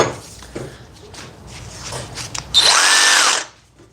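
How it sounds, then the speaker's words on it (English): A Flex 24-volt one-hand reciprocating saw cuts a 3/4-inch pipe. After a few quiet handling knocks, a loud, high buzzing cut starts and runs about a second before it stops abruptly. "So let's cut this 3/4 piece of pipe right here with the best one-hand reciprocating saw."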